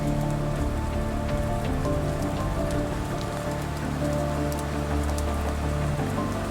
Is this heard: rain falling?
yes